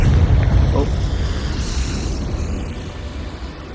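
A Confringo fire spell blasts in the Hogwarts Legacy game, a deep booming explosion at the start that rumbles and fades away, with a player shouting the spell over it.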